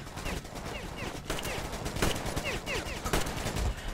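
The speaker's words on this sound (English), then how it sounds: "Who's shooting at me?" Gunfire during an ambush in the video game Metro Exodus, a dense rattle of rapid automatic shots and overlapping bursts, loud and close, with game effects underneath.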